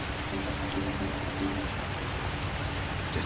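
Steady rain falls in the Far Cry 2 game world, an even, hissing wash of drops with a faint low hum beneath and no voices.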